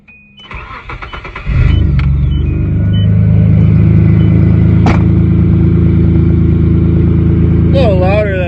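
A Nissan car with a newly fitted exhaust cranks, fires up and settles into a loud, deep, steady idle rumble close by, with a brief high squeal near the end.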